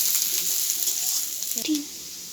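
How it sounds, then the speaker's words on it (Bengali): Chopped onion and a whole bay leaf frying lightly in oil in a pan for paneer do pyaza, giving a steady, bright sizzling hiss with faint stirring, quieter toward the end. "পেঁয়াজটাকে হালকা ভেজে নেব।"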